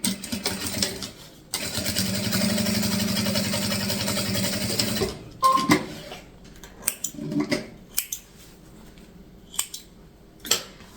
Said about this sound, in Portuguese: E aqui eu vou fazer uma costura de segurança nessa parte de cima.